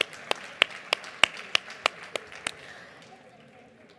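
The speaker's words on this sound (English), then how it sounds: "Another round of applause." Sparse applause at an education conference, a handful of distinct, evenly spaced claps ringing out in a hall before fading into quiet room noise.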